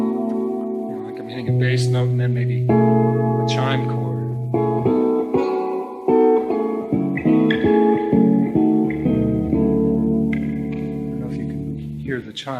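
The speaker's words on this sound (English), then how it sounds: "Bass note and then maybe a chime chord." Electric guitar in a seminar setting: a sustained low bass note rings first, then a chiming chord follows with layered harmonics, played clean with reverb in a series of changing chords and no talking.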